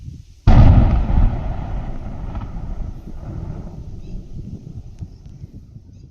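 A single heavy blast booms out after a moment of quiet, then a long rumbling roar of debris and wind trails off.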